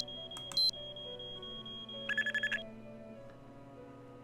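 A timed alarm in the PC adventure game Nancy Drew: Treasure in the Royal Tower rings out as short electronic bursts, a brief tone early then a rapid pulsing run of bright beeps, over a steady hum of game ambience.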